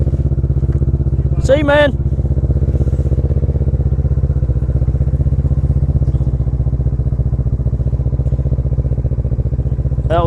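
Kawasaki 650 motorcycle engine idling steadily as it warms up, a loud continuous low rumble close by, with someone briefly speaking over it.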